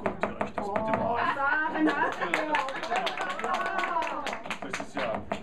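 Studio audience applause for a contestant during a radio cooking duel, with sharp rhythmic claps running through the whole stretch under continuous talking voices.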